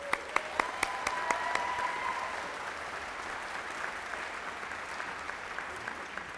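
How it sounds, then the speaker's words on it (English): An audience at a West Virginia University College of Creative Arts commencement applauds graduates' families with steady, full clapping throughout, a few sharp clicks at the start and no voices over it. "Please join me now in giving your families a round of applause"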